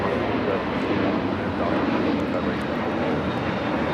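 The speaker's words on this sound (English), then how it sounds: "This is JetBlue 224 taking off to JFK on the A321neo" A JetBlue A321neo airliner takes off from LAX bound for JFK, a steady broad engine roar heard from a distance that holds through the whole stretch, with faint talk in the background.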